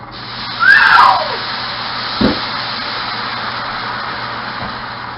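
Water hits a hot frying pan and bursts into a loud, broad sizzling hiss that settles into a steady steaming roar, with a soft knock partway through.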